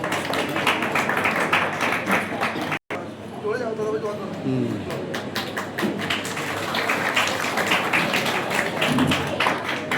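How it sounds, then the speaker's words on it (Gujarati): An audience claps steadily and densely to welcome guests at a high school felicitation ceremony honouring bright students, with a voice speaking over the applause through most of it and a brief drop-out near the start. "તાળીઓથી વધાવીશું."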